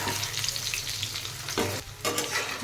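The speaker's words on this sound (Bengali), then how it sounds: "আলুগুলো দিয়ে একটু ভাজবো" Potatoes frying in a pan with onions, a loud continuous close sizzle with brief stirring scrapes near the end, no voices.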